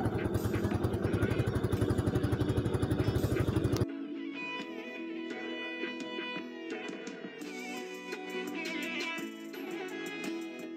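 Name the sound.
small boat motor at sea near a pier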